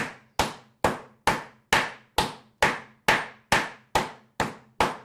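Sliced beef for carpaccio is pounded thin with a series of about eleven sharp, evenly spaced whacks, each loud close impact decaying quickly, with no voices.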